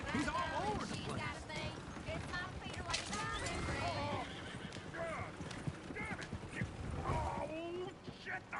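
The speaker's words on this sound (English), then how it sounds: "Oh, shit, the horses! Damn horses." Horses whinnying and clip-clopping in the video game Red Dead Redemption 2, with repeated loud neighs over hoofbeats and a busy, chaotic mix throughout, while voices talk in the scene.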